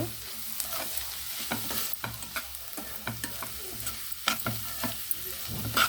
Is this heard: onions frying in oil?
yes